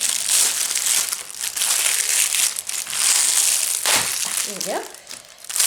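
Rustling and crinkling of a taped craft package from the United Kingdom being unwrapped by hand, steady crackly paper and plastic handling with a brief spoken remark partway through.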